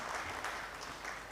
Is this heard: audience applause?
yes